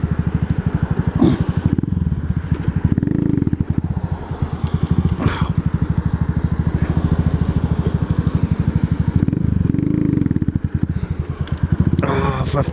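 A motorcycle engine runs steadily with a pulsing low putter throughout, loud and close, with occasional clatters and bursts of wind noise, while a rider speaks over it.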